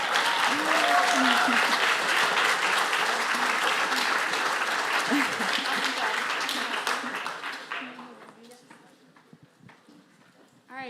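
A seminar audience applauds after a guest talk, a full sustained round of clapping with voices chattering over it, fading out toward the end as the room quiets.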